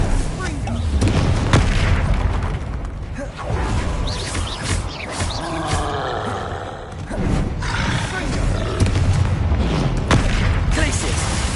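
Bombarda blasting spell explosions in the Hogwarts Legacy video game, loud booming blasts and thuds repeating through continuous chaotic combat noise, with spell shouts over the top.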